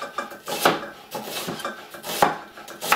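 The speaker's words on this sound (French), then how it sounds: "on y va comme ça, on fait des tranches comme ça" A knife slices through an onion on a cutting board, soft repeated cuts and taps at an uneven pace, close and moderately quiet.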